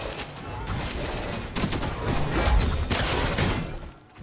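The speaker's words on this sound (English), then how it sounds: "What the hell are they shooting at?" Video game gunfire rattles in a dense, continuous fusillade of rapid shots and clattering impacts, loud and sustained throughout with no voices.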